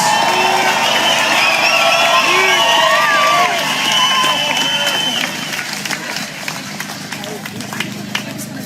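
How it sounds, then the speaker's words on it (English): A large outdoor protest crowd applauds and cheers, with whistles and shouts rising over a dense, loud roar that eases slightly toward the end. "Give a round of applause for Paris"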